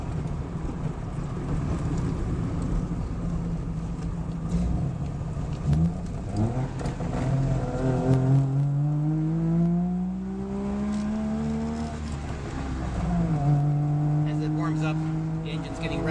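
A 1995 Saab two-stroke car engine revs repeatedly, its pitch climbing in rising sweeps, loud and close, with a steady mechanical drone underneath.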